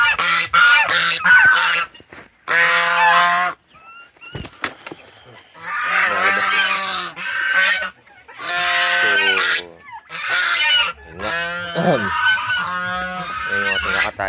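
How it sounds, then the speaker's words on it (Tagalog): Turkeys on a Filipino backyard farm gobble and honk loudly in repeated bursts, close by, with a few short pauses between calls and no talk. "Yung mga pabo."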